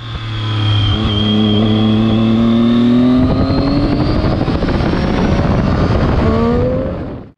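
A Triumph Daytona 675 three-cylinder motorcycle engine revs loud and close, its pitch climbing steadily from a held drone into a rising, rasping wail before cutting off abruptly at the end.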